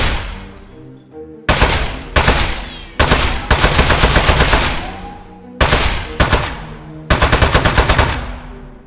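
Turret gunfire in the game Aperture Desk Job: loud, rapid automatic bursts in several long runs, separated by short pauses, close and dominant, with no talking.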